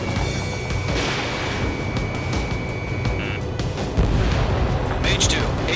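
In the jet combat game Ace Combat 7: Skies Unknown, an armored personnel carrier blows up during an air base assault. The result is a deep sustained rumble and booming blast that swells louder near the end, with voices mixed in.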